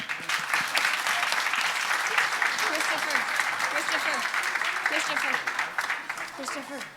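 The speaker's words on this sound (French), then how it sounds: "j'aimerais leur donner un grand tour de applaudissements" A theatre audience applauding before a church play about Jesus, dense and sustained clapping at close range, with voices and some cheering mixed in throughout.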